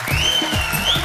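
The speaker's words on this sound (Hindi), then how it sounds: "जोरदार तालियां शाहरुख भाई और आलिया के लिए।" Studio audience applause on The Kapil Sharma Show, a TV comedy show, a short burst of clapping from the crowd heard close and fairly loud over a faint musical tone.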